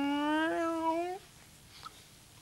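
A person imitates a cat with a long, sliding meow that rises in pitch, then stops, leaving near silence.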